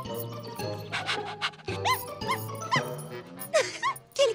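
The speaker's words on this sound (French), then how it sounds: "Quel cabot celui-là!" Cartoon dog giving a run of high yips, short barks and whimpers in quick succession, close and fairly loud, with faint jingling.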